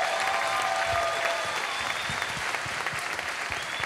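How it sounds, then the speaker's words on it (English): A theater audience at a Baby Driver red carpet Q&A claps for cinematographer Bill Pope, producing steady, full applause from a large crowd that carries on without pause across the whole moment. "give a round of applause for my cinematographer"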